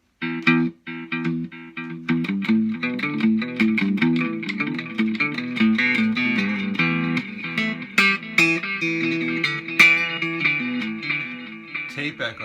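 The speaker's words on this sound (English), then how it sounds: "Tape echo, that's what the T stands for." Cigar box guitar played through tape echo with chorus and delay turned up, a continuous run of plucked, distorted notes with repeating echoes trailing behind them, fairly loud and steady, no voices.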